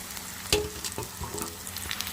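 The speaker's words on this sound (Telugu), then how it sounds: "కరివేపాకు కూడా వేసుకొని బాగా ఫ్రై చేసుకోండి" Curry leaves fry with onion in a hot pan, producing a close, steady sizzle with a brief sharper crackle and faint stirring scrapes over about two seconds.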